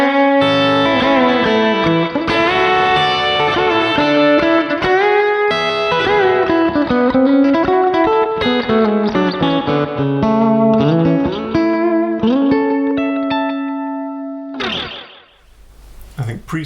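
An electric guitar played through the Neural DSP Archetype amp plugin, with clean, chorused and effected melodic lines and chords ringing loud and steady, then a sustained note that cuts off into brief noise at the end.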